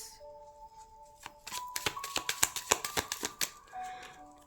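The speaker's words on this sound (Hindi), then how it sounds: "मैं पहले कार्ड निकाल लेती हूँ फिर आपको बोलती हूँ।" Tarot cards are shuffled by hand in a rapid run of crisp riffling flaps that fills the middle of the clip, close and moderately loud, with a faint tonal hum underneath and no talking.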